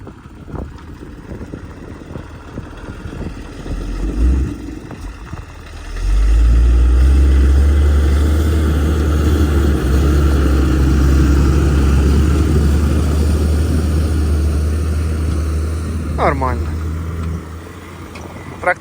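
A CLAAS tractor pulling a three-body UNLU plough through a field starts up after about six seconds and then drones steadily and loudly at a low, even pitch, with speech over the engine at the start.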